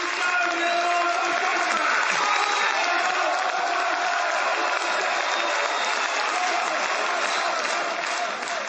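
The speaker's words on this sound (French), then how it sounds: "la foule l'acclame, l'ovationne" A large crowd of political activists applauds and cheers in a sustained, dense roar of clapping that holds steady and loud throughout, with no pauses.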